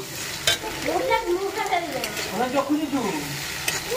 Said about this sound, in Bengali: রসুনটা ভেজে নেবো।